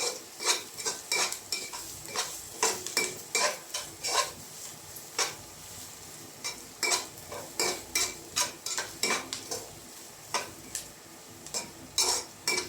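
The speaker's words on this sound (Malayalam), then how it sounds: "ഇനി മൂന്ന് ടേബിൾ സ്പൂണ് തേങ്ങ ചിരവിയത് അതുകൊണ്ട് നന്നായിട്ട് വഴറ്റി കൊടുക്കാം" Grated coconut is sautéed for upma in a pan, with a spoon scraping and clinking against the metal in a steady, repeated stirring rhythm over a faint sizzle; fairly quiet and close, no talking.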